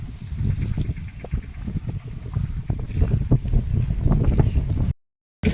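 Wind blows across an open farm field where chickpea work is under way, a continuous gusty rush buffeting the microphone, loud and close, with a brief cut near the end.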